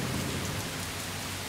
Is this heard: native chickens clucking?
no